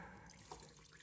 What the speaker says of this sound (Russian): Давайте сейчас добавлю воды немного.